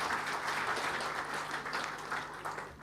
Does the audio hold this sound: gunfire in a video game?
no